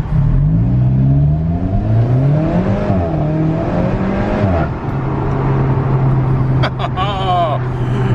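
An Alfa Romeo 4C sports car engine revs and climbs in pitch with a droning, gear-shifting whine, then settles into a steady hum, loud and close.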